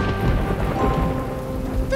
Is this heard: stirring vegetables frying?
no